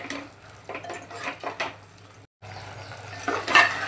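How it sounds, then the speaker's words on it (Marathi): A spoon scrapes and clatters against a pan while boiled potato pieces are stirred into sprouted moth bean misal. Several close utensil strokes sound in bursts, with a faint sizzle underneath. "आणि छान एकजीव करून घेऊया।"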